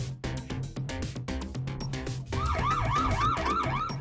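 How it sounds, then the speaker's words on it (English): A police car siren wails in rising and falling sweeps over a rumbling engine, entering loudly after a brief lead-in of vehicle noise and repeating rhythmically to the end. "Police car."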